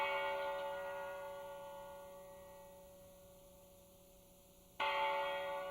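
A single large bell struck outside the United Nations on the International Day of Peace, its tone ringing out and slowly decaying before a second loud strike near the end.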